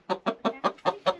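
A backyard rooster and hens cluck close by in a quick run of six evenly spaced, throaty bursts, loud and with no talk over them.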